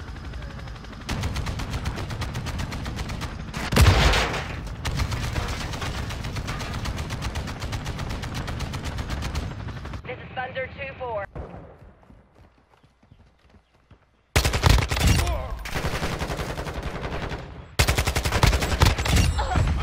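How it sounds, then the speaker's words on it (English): Small arms gunfire in a video game, heard as long stretches of dense, rapid, sustained shooting with one heavier burst, then a near-silent gap before the firing resumes loudly. "We're taking small arms fire."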